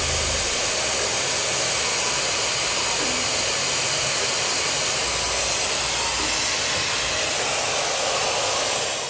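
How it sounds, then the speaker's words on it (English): Vacuum bleeder drawing brake fluid through the Brembo brake system of a 2022 BMW S 1000 RR motorcycle, a loud steady broadband hiss that continues unchanged throughout. "Should be able to watch the fluid level drop as it's sucking brake fluid through the system."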